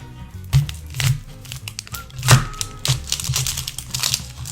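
A knife slices a vegetable in half for keto Zuppa Toscana soup, giving close crunchy cuts and crinkly knocks on a board in a short irregular sequence.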